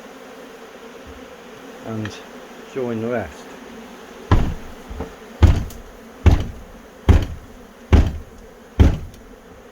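A honey bee swarm hums steadily around a bee house, while a series of sharp, evenly spaced knocks rings out close by after a brief stretch of talk.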